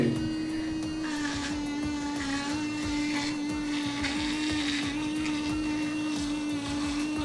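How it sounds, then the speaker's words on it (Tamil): Electric toothbrush running fast at a fixed, powerful speed while brushing teeth, a steady close buzzing whine with wet scrubbing texture throughout, no talk. "ஸோ இப்போ இந்த பிரஷ்ல நான் பிரஷ் பண்ண ஸ்டார்ட் பண்ணுறேன்."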